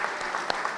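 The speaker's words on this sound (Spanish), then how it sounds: "vamos a darle un aplauso a Pepa por esta exposición" A Spanish book-club gathering's audience gives a brief burst of steady applause, dense clapping at a constant level with a few sharper individual claps standing out.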